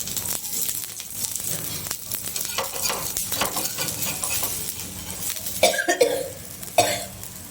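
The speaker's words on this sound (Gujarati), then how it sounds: "હવે ફરતું થોડું તેલ નાખીશું એટલે આપણું પુડલું જલ્દી ઉઠી જાય" Gram flour pudla fries in oil on a pan, a steady close sizzle with stirring and scraping of a utensil against the metal, a few louder clatters near the end, no talk.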